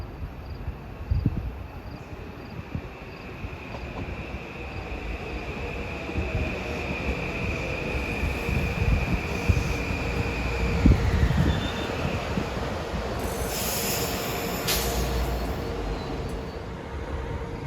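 A New Haven Line electric commuter train bound for Stamford rolls into Mamaroneck station during evening rush hour, a steady rumble building with wheel and rail noise, a high whine, and a brief squeal as it pulls in.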